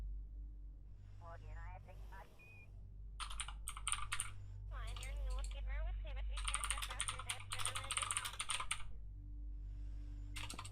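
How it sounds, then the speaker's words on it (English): Bursts of rapid clicking from a computer keyboard, uneven and fairly quick, sitting under a person's voice with steady background hum throughout. "My typing is atrocious tonight"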